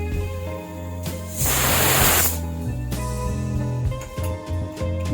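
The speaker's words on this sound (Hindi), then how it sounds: "गैस रिलीज होने के बाद ढक्कन खोल देंगे।" A pressure cooker of mutton curry releasing steam in a loud hissing burst lasting about a second, set against steady background music.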